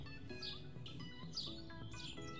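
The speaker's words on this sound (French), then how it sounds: "Vous pouvez même entendre les petits oiseaux." Small birds chirp and tweet outdoors in sunshine, with repeated bright calls over a steady background of ambient noise and no talking.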